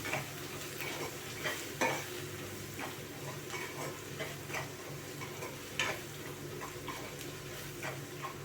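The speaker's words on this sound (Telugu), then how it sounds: "ఇవన్నీ ఇప్పుడు ఒకసారి బాగా ఫ్రై చేసుకుందాం" Spices frying in a pan for homemade fish dum biryani, a soft continuous sizzle broken by scattered stirring scrapes and ticks, fairly quiet and close, with no voices.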